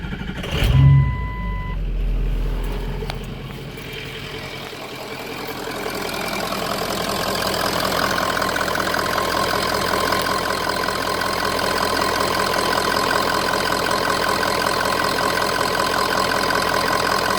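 A Ford Powerstroke 6.0 diesel fitted with a blue spring fuel pressure regulator kit cranks briefly, then catches and settles into a steady, loud, close idle with a rattly diesel clatter, no voices.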